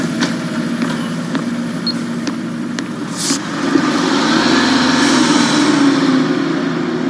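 A bus engine runs steadily close by, a loud continuous rumble that swells slightly partway through and carries on without any voices.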